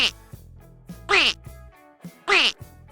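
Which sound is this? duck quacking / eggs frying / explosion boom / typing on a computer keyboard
duck quacking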